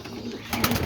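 Breeding pigeons coo at close range in a home loft, a couple of soft throaty rolls rising in the second half over a low background murmur.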